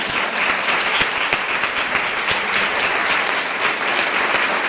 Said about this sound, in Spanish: Pues venga, el último aplauso.